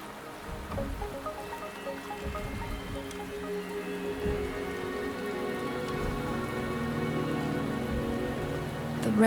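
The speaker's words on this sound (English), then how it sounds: "The rain is subsiding, and the sky will soon clear." Steady rain falls in a Wuthering Waves scene, a soft, continuous patter on surfaces, with a faint low tonal background underneath, slowly swelling slightly louder.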